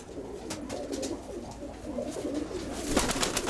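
Pigeon cooing softly in a loft among kept pet pigeons, low murmuring coos repeating over a faint background with brief rustles, a little louder near the end.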